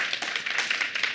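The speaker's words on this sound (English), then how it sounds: "maybe by a clap of hands" An audience claps in a room, a quick, fairly soft patter of many overlapping hand claps lasting only a moment.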